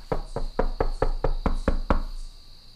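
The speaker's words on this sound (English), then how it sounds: "Barbara, get the goddamn door." Someone knocking on a house door, nine firm evenly spaced raps in a quick steady run, loud and close, with a faint high hum behind.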